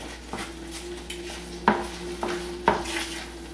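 Diced ham being stirred into a thick cream for Cuban croquetas de jamón, the spoon scraping a pot in steady strokes with a couple of sharper knocks against the rim, close up and without talk.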